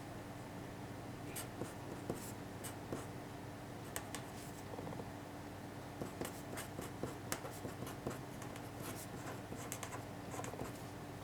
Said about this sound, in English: See if everyone can write down the formula without looking